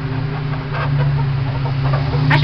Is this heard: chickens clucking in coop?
yes